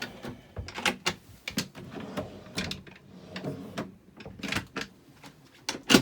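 A deep drawer in a Carthago Malibu T-500 QB motorhome kitchen being pulled open, giving a run of close, sharp clicks, knocks and sliding rattles in irregular bursts.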